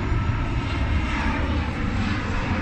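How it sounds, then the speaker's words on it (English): A TUI Boeing 737-800 jet passes overhead with a steady, loud engine roar that holds evenly throughout, broad rumble filling the scene without any voices. "So we have an aircraft. There it is, a TUI 737-800."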